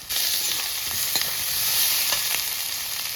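Spices frying for a pangas fish curry in a village kitchen pan, a continuous bright sizzle with a few soft scrapes of stirring, close and steady.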